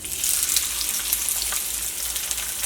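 Finely chopped onion sizzles in hot oil in a pan at the start of a chicken fry, a steady loud hiss and crackle heard up close with no talking.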